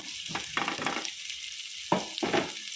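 Mussels stirred in a hot pan, with bursts of sizzling and scraping in uneven strokes, quiet pauses between them, close and moderately loud.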